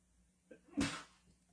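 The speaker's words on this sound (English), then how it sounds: "Did you hear him sneeze?" A single short sneeze from someone across a quiet room, a sharp breathy burst preceded by a faint intake.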